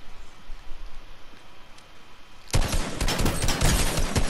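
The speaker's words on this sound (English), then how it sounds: "somebody's sniping at me from somewhere, shooting at me from somewhere else" Sudden loud burst of rapid gunfire from sniping and shooting in an online video game match, starting abruptly after quieter ambience and continuing densely to the end.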